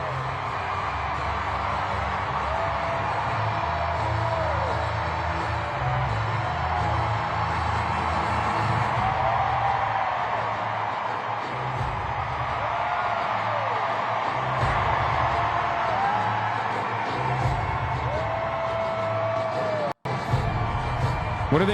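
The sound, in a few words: rally crowd cheering and whooping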